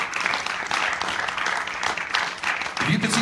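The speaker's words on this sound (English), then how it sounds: "Give him a round of applause for playing this and working it out." Audience applause for musician William Ruggiero after he plays an intricate, note-dense piece, a steady wash of clapping at close range lasting throughout, with possible voices mixed in.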